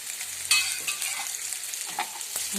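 Crushed garlic and ginger stirred into a hot pan for chicken curry, with a steady frying sizzle and scraping stir strokes close by, no talking.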